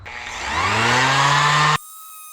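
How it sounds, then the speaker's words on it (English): A random orbital sander with 150-grit paper whines and drones against wood, rising in pitch, then cuts off abruptly, leaving a faint electrical hum. "I'm going to be using 150 grit on my random orbital sander"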